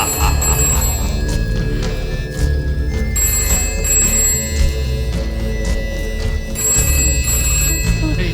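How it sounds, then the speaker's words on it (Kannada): A telephone rings in repeated bursts of shrill tones separated by short pauses, set against a dense, continuous background in a film scene. "ಫೋನ್ ಎತ್ಕೊಳ್ಳೆ"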